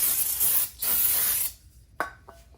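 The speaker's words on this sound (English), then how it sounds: "Spray some more if you need to" Two long hissing sprays from an aerosol can of brake cleaner onto a brake rotor close up, a short pause between them, followed by a couple of light metallic clicks.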